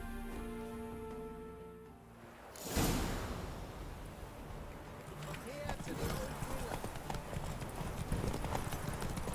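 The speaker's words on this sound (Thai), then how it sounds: "แน่ๆซิลีอยากแข่งม้า" Horse galloping in a horse race in The Witcher 3 video game, rapid rhythmic hoofbeats kicking in abruptly after a quiet start and thundering steadily close by, with some talk over it.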